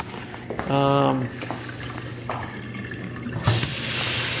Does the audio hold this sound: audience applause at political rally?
no